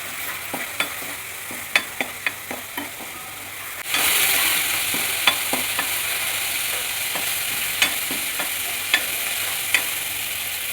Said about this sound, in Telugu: ఇప్పుడు దీన్ని బాగా మిక్స్ చేసుకోవాలి, వేయించుకోవాలి అల్లం వెల్లుల్లి పేస్ట్